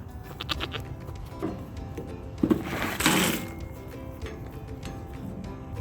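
A male goat gives a short bleat over a steady mechanical hum, with a louder burst of noise partway through; no one speaks.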